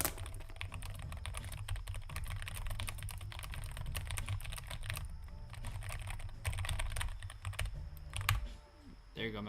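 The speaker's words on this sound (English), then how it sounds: "What does the keyboard sound like? Metal Flowers. Let me type something to you." Rapid clicking keystrokes on a computer keyboard, fairly close and continuous with brief pauses, ending in a few firmer taps.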